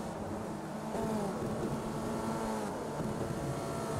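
Race car engines in a wet Skip Barber race at Spa-Francorchamps in a sim racing game, a steady continuous drone of engine noise with gear-like shifts, moderately loud and without talk.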